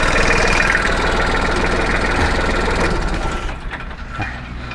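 A Kubota L3608 tractor's diesel engine idles loudly and close with a rough, knocking chug, then dies away near the end as it is switched off.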